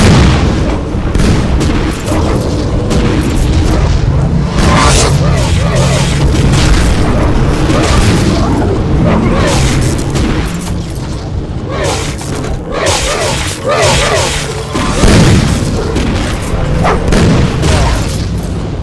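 Rocket explosions in the Vivisector: Beast Within shooter game, loud repeated booming blasts and gunfire in rapid succession over nearly twenty seconds, with a voice talking at times.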